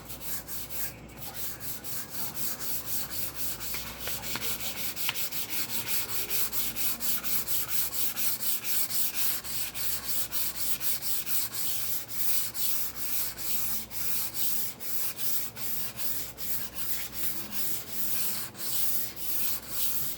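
A wooden J Bass guitar body sanded by hand with the grain, producing a continuous, even rasping scrub in long rhythmic back-and-forth strokes, close and loud throughout, with no voices.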